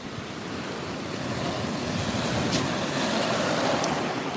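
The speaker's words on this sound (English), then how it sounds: "Gotta be careful of these waves." Lake Michigan waves wash onto a rocky shore in a steady, close roar of surf, with wind buffeting the microphone and a couple of brief splashes.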